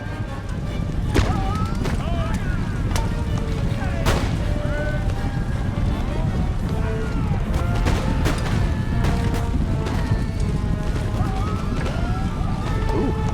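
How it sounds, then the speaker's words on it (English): Musket volleys and artillery booms from a battle in Empire: Total War, scattered sharp cracks and thuds over a dense roaring battlefield bed, with a voice talking over it. "Ooh, returning fire."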